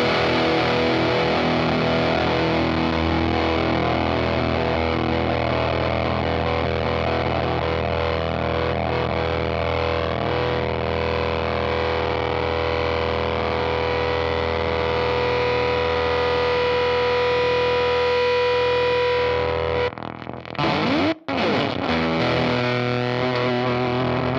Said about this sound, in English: it does this fun glitchy decay thing where the tone kind of dies